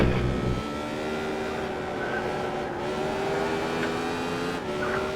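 A Radical race car at the Suzuka circuit downshifts and brakes, its engine note dropping in steps with a whining drivetrain over steady road roar, heard loud from inside the cockpit.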